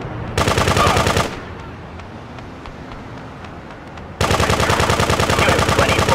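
Machine gun fire in the video game GTA 2, two loud sustained bursts of rapid shots separated by a quieter stretch of faint periodic ticking, all close and harsh.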